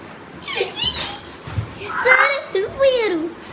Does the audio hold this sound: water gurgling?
no